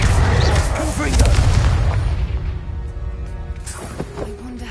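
A Confringo blasting spell in Hogwarts Legacy goes off as a loud, deep explosive boom that rolls and fades over a few seconds, with voices speaking in the background.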